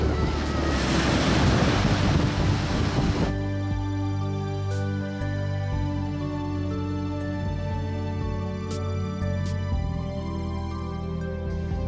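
Sea surf breaking on the Guernsey coast, a loud rushing wash of waves with wind buffeting the microphone at first, then easing to a softer distant roll beneath a sustained musical backing.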